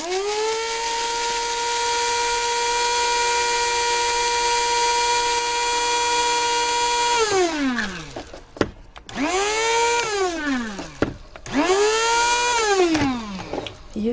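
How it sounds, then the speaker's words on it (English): A small Miracle Mill seed mill grinds flax and fennel seeds with a loud, high motor whine held steady for several seconds, then cut and restarted in short bursts that wind down and back up. "I'm going to grind that up. This is a little seed mill I have called the Miracle Mill."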